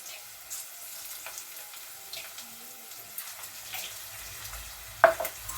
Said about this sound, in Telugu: కొంచెం అల్లం పేస్ట్ వేస్తున్నాండి.